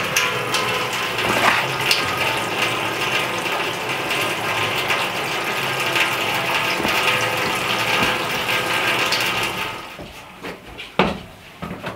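Water filling a large heat-storage container in a DIY greenhouse, a steady gushing pour with mechanical clicks, fading near the end.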